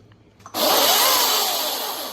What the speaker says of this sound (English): a chainsaw.